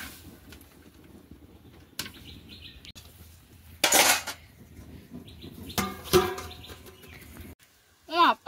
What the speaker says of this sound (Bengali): এবার কড়াইয়ের মধ্যে মটরটা দিয়ে দেবো।